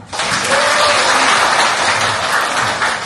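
Dense, steady applause from a lecture audience at a talk on signatures fills the room, loud and continuous with no voices over it.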